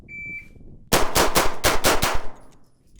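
A Shadow Systems pistol fires six rounds in rapid succession outdoors, loud and close. A high electronic timer beep comes just before the first shot.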